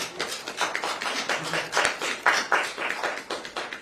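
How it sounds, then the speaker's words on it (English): A small audience claps at a state governor's press event announcing a vaccine lottery winner, a moderate patter of distinct individual claps that pulses unevenly and continues steadily throughout, with no talking. "I'm going to round of applause for a good guy"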